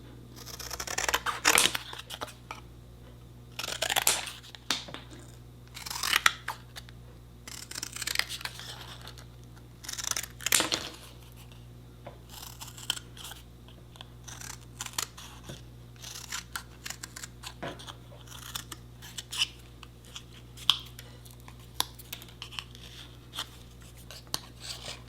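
Scissors snip through a paper template for a tiny gingerbread house in irregular bursts of close, crisp cuts, with paper rustling and quiet pauses between them.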